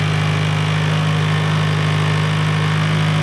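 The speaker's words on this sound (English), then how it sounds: "You hear the engine change to get it right where it should be." An SR20 engine swapped into a Mazda MX-5 Miata NC idles steadily on the dyno after its ECU ignition timing is adjusted, giving a loud, even, continuous hum with no people talking.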